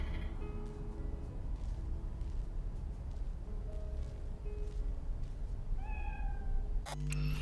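A pet cat meows in the video game Cyberpunk 2077, a couple of drawn-out meows over a steady low background hum, with a sharp sound near the end.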